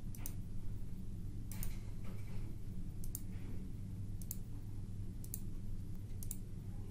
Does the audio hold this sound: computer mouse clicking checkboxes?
yes